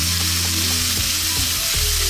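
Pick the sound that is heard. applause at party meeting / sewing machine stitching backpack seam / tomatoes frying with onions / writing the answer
tomatoes frying with onions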